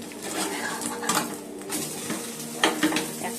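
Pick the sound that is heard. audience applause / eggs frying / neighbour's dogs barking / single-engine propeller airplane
eggs frying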